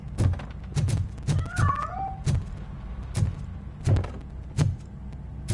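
A cat meows once in RoboCop: Rogue City, a short rising-and-falling cry in the middle of a run of heavy, evenly spaced footsteps that thud across the whole scene.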